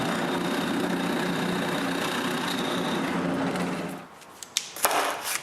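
A power drill bores a hole through a wooden shelf piece for a power cord, a steady loud whine for about four seconds that stops abruptly, followed by a few light knocks.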